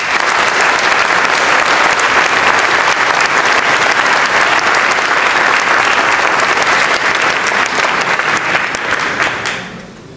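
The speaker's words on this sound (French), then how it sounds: "Je propose néanmoins de les applaudir." Sustained applause from a ceremony audience at an academic year opening event, dense and steady clapping for about nine seconds before tapering off at the end.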